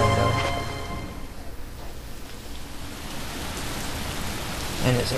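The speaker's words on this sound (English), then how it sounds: "And it's a rainy day" Steady rain falls in the L.A. Noire video game, a continuous hiss filling the scene throughout, with music faintly at the start and end.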